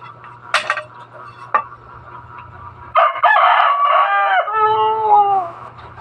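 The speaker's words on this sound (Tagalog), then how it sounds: "sa mga ingay ng mga manok ko. Mayroon akong 2 tandang dito." Two roosters crow loudly and close by, one long drawn-out crow with falling tones following a couple of short sharp calls and clucks, over a low background hum.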